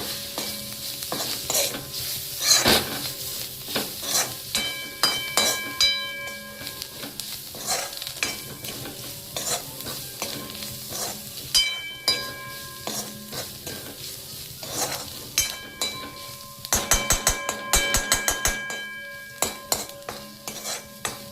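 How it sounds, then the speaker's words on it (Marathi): Dry spices, garam masala, coriander powder and turmeric with red chilli, stirred in a pan for Vidarbha-style sambar vada, give a steady run of close spoon scrapes and clinks over a faint sizzle, with no voices. "थोडासा गरम मसाला, धनिया पूड आणि हळद हे एकत्र करून घेऊ"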